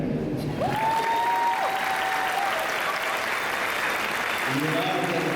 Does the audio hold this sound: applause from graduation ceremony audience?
yes